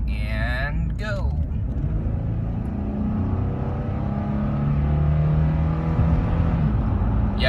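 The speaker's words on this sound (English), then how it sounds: "let's go ahead and do a harder acceleration." A 2012 Nissan Pathfinder with a 5-speed automatic accelerates hard, its engine droning and rising steadily from inside the cabin, with a brief voice at the start.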